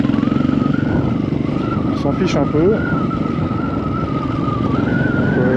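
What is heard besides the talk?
motorcycle riding on a dirt track near Antsirabe, Madagascar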